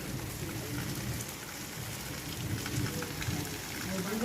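Steady rain pours down during a storm in Taperoá, Paraíba, a dense, even hiss of drops on surfaces filling the whole stretch, close and moderately loud, with no distinct thunder.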